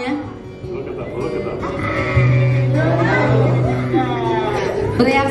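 A flock of sheep bleats repeatedly in answer to a shepherd's call, several overlapping cries rising near and far over a low drone, while people talk and exclaim throughout.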